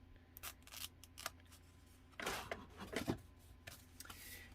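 Scissors cutting open the plastic package of a 6x6 scrapbook paper pad, a quiet series of close snips and crinkling rustles, fairly faint, no voices.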